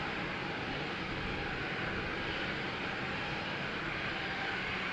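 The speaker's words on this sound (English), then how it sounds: "So in the meantime, there's a whole little train of airplanes." Airplanes taxiing at Amsterdam Schiphol Airport, a line of 737s and Embraer jets, give a steady, distant broadband engine rumble and hiss that holds evenly throughout with no talking.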